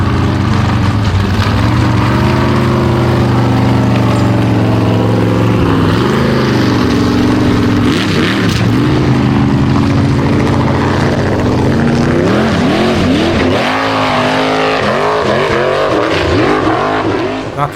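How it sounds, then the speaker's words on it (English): Formula offroad race vehicle tackling a course at Stapafell, Iceland, its engine roaring loud and close throughout, revs rising and falling repeatedly as it climbs and maneuvers. "Snorri the Choir Boy will be the first to tackle the 5th course"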